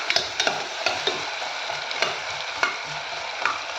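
Ingredients sautéing in a home kitchen pan, with steady soft sizzling broken by a run of scraping, clattering spatula strokes, close and moderately loud, with no voices.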